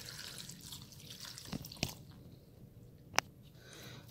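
Two cups of vegetable stock poured into a pan over seasoning for a vegan bean dish: faint, wet splashing and dripping, with a couple of sharp clicks and no voices.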